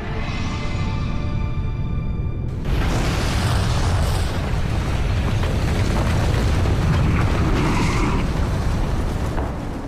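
A deep, massive boom from the 1883 Krakatoa volcanic eruption erupts and then roars on as a sustained rumbling blast that fills everything for several seconds.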